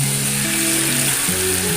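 Fried paneer cubes sautéing with potato and pointed gourd for a vegetarian curry, giving a steady, close sizzling hiss over a low tonal hum, with no talking.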